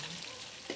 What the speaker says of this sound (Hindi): यहाँ पर हम अच्छे से फ्राई कर लेंगे।